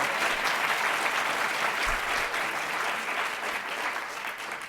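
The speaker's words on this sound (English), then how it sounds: "They have an applause thing up here." Students in a university lecture hall applaud during an introduction at a democracy lecture, a sustained, even round of clapping that holds steady for several seconds and eases slightly toward the end.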